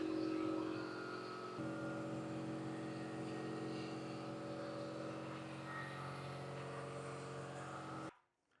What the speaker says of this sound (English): We'll wait for the compressor to finish.